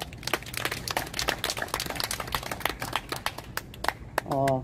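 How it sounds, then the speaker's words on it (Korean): A church congregation at a national-salvation prayer meeting claps together in a dense, steady burst of applause that runs loud and unbroken, then gives way to a brief sustained tone at the end. "오늘 부름 받은 여러분들과 불러주신 하나님께 영광의 박수 올려드립시다"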